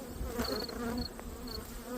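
Honeybees buzz around an open beehive during an inspection near a field of goldenrod, a faint continuous hum with individual bees droning past close by.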